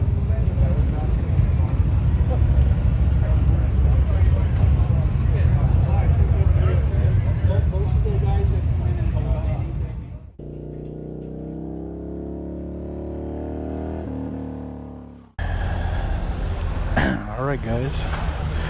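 A 2023 KTM 890 Adventure R motorcycle on a demo ride at Americade, with loud, steady wind roar over the engine drone, easing into a quieter stretch of clear engine hum before the wind rushes back.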